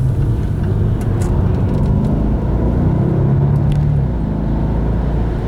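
2012 Jaguar XF engine pulling at quarter throttle from inside the car, a steady low rumble with a rising engine tone under road noise and no voices.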